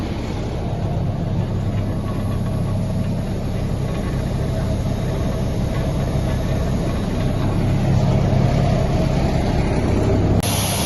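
A large Caterpillar diesel engine driving an air compressor drones steadily and loudly at close range, a constant low rumble with mechanical hum that holds for the whole stretch.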